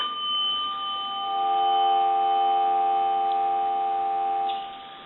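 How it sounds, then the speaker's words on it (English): Steady dial tone from a repaired Kellogg wood wall telephone connected to a line analyzer: a continuous, even, close hum that runs for about four seconds, then fades slightly at the end. No speech. "I want to give you some dial tone."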